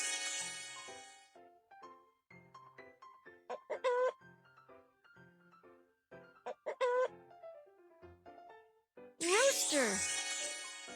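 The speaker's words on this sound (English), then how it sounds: "Rooster." A rooster crows from a cartoon in a listening game, the bright harmonic call coming at the start and again loudly at the end, separated by stretches of a child's and an adult's speech and chiming music.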